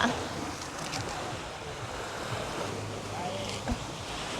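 Sea waves surge onto a Thai beach shore with a steady rushing roar, mixed with wind buffeting the microphone and a faint low rumble, at a moderate, even level.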